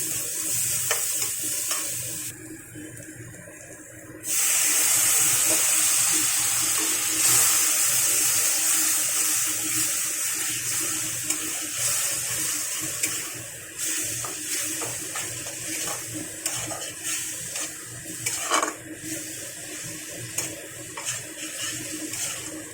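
Water poured into a pan of spice masala being cooked with chilli powder and turmeric, a loud bubbling hiss and sizzle that rises suddenly and then settles into stirring and spattering, no voices.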